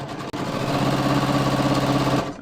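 Domestic sewing machine stitching across the side seam of jeans during waistband work, a steady close motor whir with rapid rhythmic needle pulses running continuously for about two seconds before slowing to a stop.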